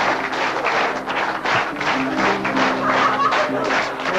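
An audience applauds steadily and loudly for a few seconds, a dense wash of clapping with no pauses, alone without speech.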